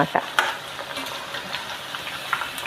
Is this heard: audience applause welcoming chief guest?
no